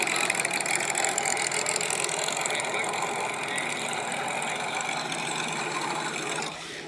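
Race car engines idling at Monterey Car Week, including Porsche 911s, a loud, continuous close mechanical drone with a faint ratcheting texture that drops off sharply at the end.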